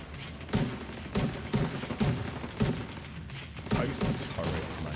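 Bursts of turret gunfire in The Division 2, several loud volleys at irregular intervals with dense crackling between them.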